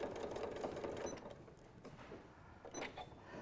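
A sewing machine stitches around a stuffed fabric nativity figure, whirring steadily at first, easing off, then giving a shorter burst near the end, all quiet and close.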